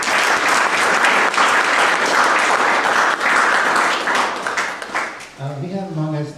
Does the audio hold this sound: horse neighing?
no